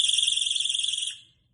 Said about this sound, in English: We also have an alarm.